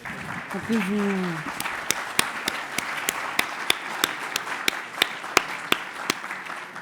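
Audience applause at a conference session, starting after a brief spoken phrase and continuing as steady clapping with sharp individual claps standing out near the microphone.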